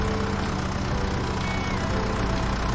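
A farm tractor engine rumbles steadily and loudly close by, a continuous low idling drone with no breaks.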